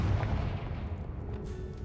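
A Confringo spell blast in Hogwarts Legacy, a deep booming burst with a rumbling tail that fades over about two seconds, loud and close.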